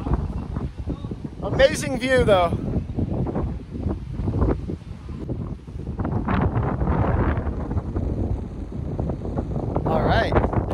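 Steady wind rumbles and buffets across a mountain top on the Pitons in St. Lucia, with people talking over the gusts throughout.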